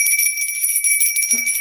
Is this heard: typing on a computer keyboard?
no